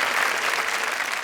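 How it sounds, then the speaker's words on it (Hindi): Audience at a Hindi kavi sammelan poetry show bursts into loud, dense, continuous clapping that holds steady throughout, with no voices above it. "एक बार जोरदार तालियां।"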